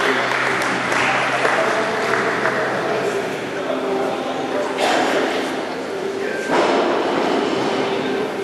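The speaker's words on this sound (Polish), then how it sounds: "I duże brawa, i gratulacje" An audience at a women's competition prize ceremony applauds the winners, a steady wash of clapping with a voice talking over it and a low rumbling background.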